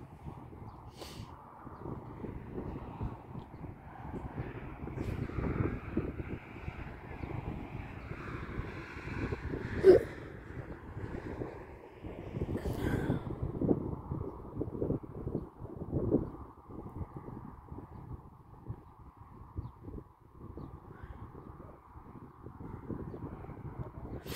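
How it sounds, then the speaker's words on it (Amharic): Strong wind buffets an outdoor microphone near grassland, producing a continuous low rumbling roar with gusty swells and occasional sharp pops. "ከንፋስ ጋር አልቻልኩም"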